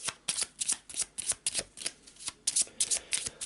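A deck of game cards is shuffled for a board game, the riffles and bridge snaps coming as quick, crisp bursts in a steady rhythm for a few seconds, close and loud, with no talking.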